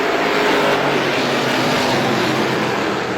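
Woody's Auto Strictly Stock race cars pulling away at the start of a heat race at Star Speedway, a dense, loud, steady roar of several engines with no pauses.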